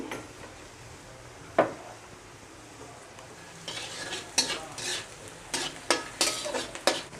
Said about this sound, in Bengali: সব কিছুই আমি আলাদা আলাদা ভেজে নিচ্ছি।